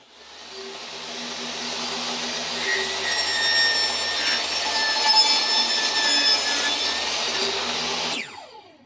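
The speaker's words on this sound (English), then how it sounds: "rip the board" Table saw ripping a wooden board along the fence for a beehive entrance reducer, a steady high whine with a droning tone rising in the cut and ending abruptly as the board clears.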